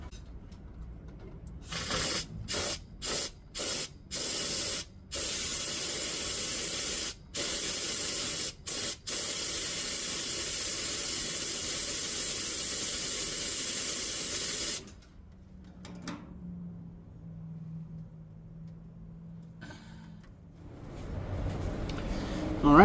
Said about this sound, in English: I'm spraying some carb clean through it and then hitting it with some compressed air, just to blow out any sediment or debris that could have been in the line